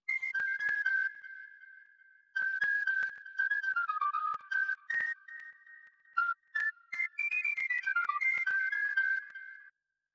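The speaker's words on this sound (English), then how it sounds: "I took this sample of me playing harmonics on the ukulele." Bright, pure whistle-like tones from sampled ukulele harmonics in a sampler trace a wavering melody in phrases with short gaps, gliding between pitches, clear and alone.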